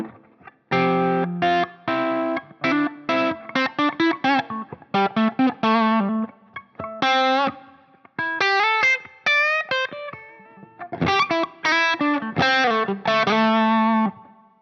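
Electric guitar chords played through a Line 6 Helix with reverb ring out in bursts, some short and choppy, others sustained, with tails decaying between strikes.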